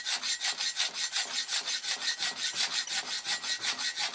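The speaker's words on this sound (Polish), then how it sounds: "pilnik się nie ślizga, tylko bierze tą stal" Old hand file rasping across the bit of an 800-gram Hultafors axe head of hard Swedish steel, in steady rhythmic strokes, about a dozen back-and-forth passes, close and alone.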